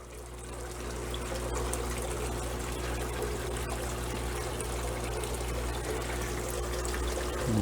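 Catfish being poured with their tank water into a 125-gallon aquarium, a steady close trickling and splashing pour that runs continuously without pause.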